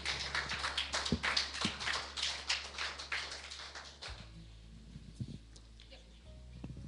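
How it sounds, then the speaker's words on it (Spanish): A church congregation claps in applause, dense rapid clapping for about four seconds, then dropping to a few scattered claps with quieter background. "vamos a servir a nuestra maestra con un aplauso"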